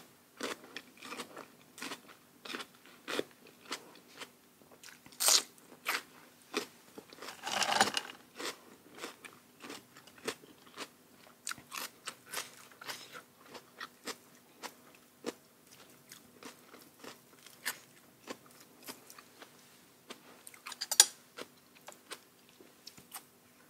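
Someone eats a giant raw oyster with seafood dipping sauce and crisp young leucaena shoots, producing close, repeated crisp crunches and wet chewing bites in an irregular rhythm against a quiet background.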